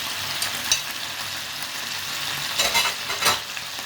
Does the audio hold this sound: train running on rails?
no